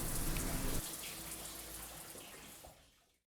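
Water runs steadily from a newly installed faucet, a broadband rush that starts strong and gradually fades out toward the end.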